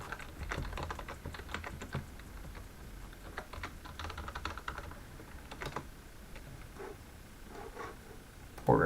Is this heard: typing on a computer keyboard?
yes